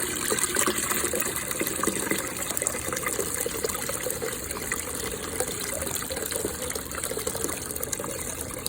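Water gushes and splashes steadily into a mop sink basin, a continuous pouring rush close by with no voices.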